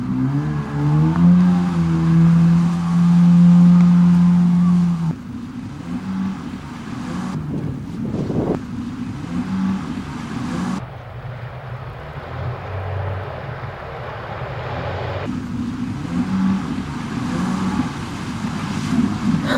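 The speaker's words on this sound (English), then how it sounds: "We're going to go on jet skis." A jet ski engine roars and revs over the water off Curaçao, its pitch shifting as it speeds up and slows, with wind buffeting the microphone throughout.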